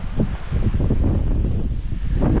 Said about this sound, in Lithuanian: Bet vėjas pučia.